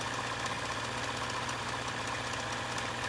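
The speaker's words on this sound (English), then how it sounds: "So let's see how it does. It's sewing pretty smoothly." A serviced old-style Bernina 830 sewing machine runs steadily at a smooth, even hum with a fine rapid mechanical patter, close and constant throughout, with no talking.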